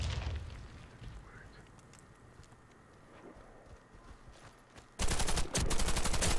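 In the Warface video game, quiet battle ambience gives way to a sudden loud burst of gunfire and explosion noise that fills the last second and a half.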